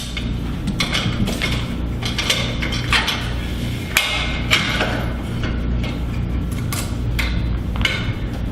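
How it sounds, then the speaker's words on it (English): Metallic clanks and ratcheting clicks from a functional trainer cable machine as the bar is swapped for a single handle and the pulley is moved down to its lowest setting; irregular sharp knocks, close and fairly loud. "I'm going to change the bar to a single handle and put the cable pulley down to its lowest"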